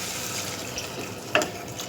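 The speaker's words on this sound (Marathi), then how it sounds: "पाणी टाकून घ्यायचं." Water is poured into a pot of soaked masoor dal while cooking, a soft, fairly faint splashing stream with a brief sharper slosh late on, and no voices.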